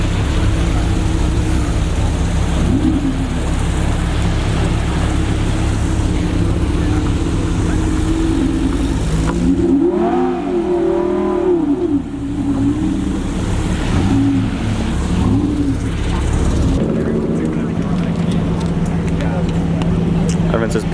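A Lamborghini Performante supercar climbs a steep residential driveway with a loud, steady low engine rumble and a brief rising rev in the middle. People talk over it throughout.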